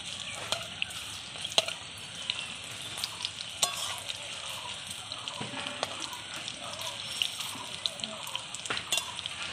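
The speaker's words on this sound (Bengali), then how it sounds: "এখানে আঁচ কম দিয়ে কিন্তু আমি ভাজছি" Jackfruit pakoras fry in oil over low heat, a steady soft sizzle and crackle with scattered pops throughout.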